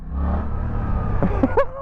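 A motorcycle with an up-down quickshifter is ridden at speed. Its engine drones as a steady, close rumble with wind noise, and a few brief higher-pitched chirps appear near the end.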